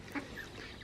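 A single short quack from a duck on a large grassy plot, faint and brief against quiet outdoor background noise.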